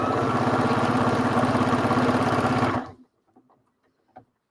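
A sewing machine runs steadily through thick quilt layers, a dense buzzing motor with rapid needle pulses that stops abruptly near the three-second mark, followed by a few faint clicks and small handling sounds.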